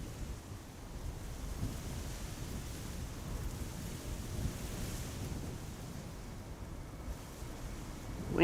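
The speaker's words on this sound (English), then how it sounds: "Wind seems to have become a bit more gusty." Gusty wind at Amsterdam Schiphol airport during rain showers rumbles and buffets the microphone in a steady, dull roar that swells slightly in places, with no voices.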